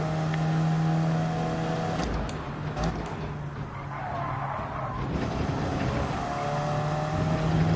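Race car engines in Gran Turismo 7 at Watkins Glen, with a steady droning engine note, tyre squeal and a brief shift in tone midway as cars run in a slipstream, continuous and fairly close.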